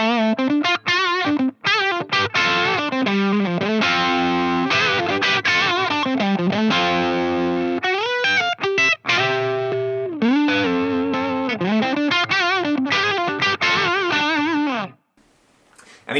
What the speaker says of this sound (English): Let's try it on the tight clean sound. Even though it's not clean at the moment, it sounds like this.